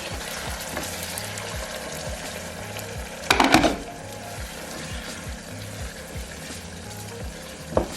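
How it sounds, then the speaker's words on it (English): Boiling water is poured into a pot of softened onions and tomatoes for shiro, chickpea stew, over a steady background sizzle and faint rhythmic hum, with a sharp splashing burst midway and a brief clink near the end. "I'm going to add a little bit of boiling water."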